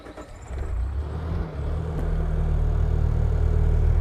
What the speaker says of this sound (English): We're going to fire this machine back up.